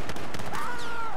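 A grenade blast in Battlefield 4, a short burst of explosive crackle followed by a whistling, ringing tone that lingers after the detonation, heard alone.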